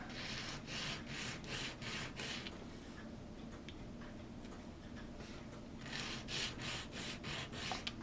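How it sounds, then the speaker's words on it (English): Burrs being filed off the side of a model ship part: a steady, rhythmic rasping of repeated strokes that pauses briefly in the middle, then resumes, close and moderately loud with no talk. "Now let's get rid of the burrs off the side of this."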